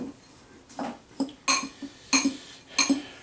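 Freshly grated parmesan and panko breadcrumbs being mixed in a bowl, heard as a series of separate clinks and scrapes of a utensil against the dish, spaced about half a second apart, close and fairly quiet.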